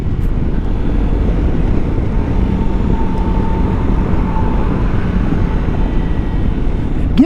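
A Kawasaki Versys-X 300 motorcycle engine drones steadily while riding, a loud, continuous low hum mixed with wind rush throughout, with no talk.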